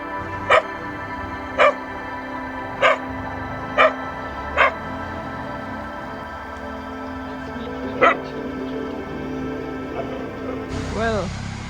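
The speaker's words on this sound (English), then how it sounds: "2 of the dogs were barking at me very aggressively" Two dogs bark aggressively near a temple around Matara, Sri Lanka: about six sharp, loud barks spaced a second or two apart, a pause, one more bark, then a rising whine at the end over a steady background hum.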